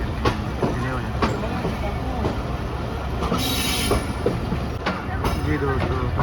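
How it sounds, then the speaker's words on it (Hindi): Pakistan Express passenger train rolling along the tracks near Khanewal Junction, a steady loud rumble of carriages with clacking wheel beats and occasional high squeals, continuous throughout. "आप देख सकते हैं ट्रेन जा रही है"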